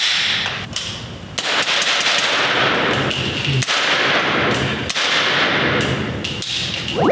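Suppressed 300 Blackout rifle with an 8.5-inch barrel and a SureFire suppressor, firing subsonic rounds: several sharp, loud reports at irregular intervals, each a dull crack with a short ringing tail, close by.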